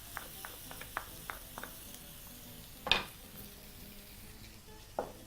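Onions, garlic and ginger frying in a pan for chicken tikka masala: a faint steady sizzle under scattered light utensil taps, with one louder clank near the middle and another toward the end.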